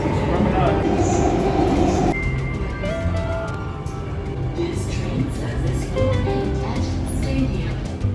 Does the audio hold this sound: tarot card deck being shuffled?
no